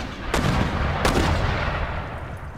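Long-range musket and cannon fire in the historical strategy game Empire: Total War, a steady rumbling barrage with two sharper booming volleys near the start, loud and without voices.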